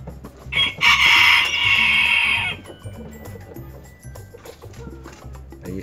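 A newly hatched chick being helped free of the shell membrane peeps in a loud, rapid burst of high, shrill calls lasting about two seconds, then quieter rustling and handling noises follow.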